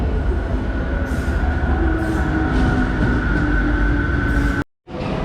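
A metro train sits at a platform in Medellín, Colombia, with a steady low rumble and hum, ending in a brief sudden cutout before the noise resumes.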